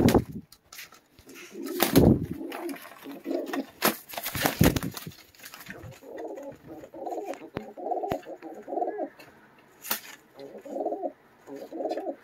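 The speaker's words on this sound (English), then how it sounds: "Bird fight." Pigeons fight and coo close by, with sharp wing flaps and scuffling bursts early on, then repeated throaty coos in rhythmic clusters, and a few sharp clicks in between.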